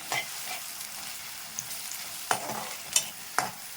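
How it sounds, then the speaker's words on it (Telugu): Onions frying in a pan for chicken fry, a steady loud sizzle with a few sharp scraping stirs of a spatula near the end, no voices. "ఆనియన్స్ కొద్దిగా బ్రౌనిష్గా వచ్చేంత వరకు వేయించదామండి."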